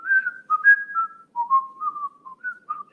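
A single person whistles a melodic tune alone, clear and close, with short phrases separated by brief pauses.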